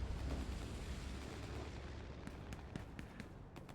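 Rockets striking a tank during a WWII strategy video game battle at Juno Beach, a dense rumbling barrage of booms and blasts that thins into scattered sharper impacts, with no talking.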